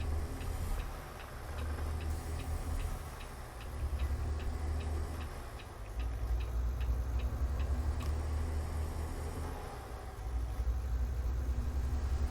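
A Peterbilt 389 truck in American Truck Simulator has a worn transmission. It ticks fast and evenly, like grinding, over a steady low engine rumble.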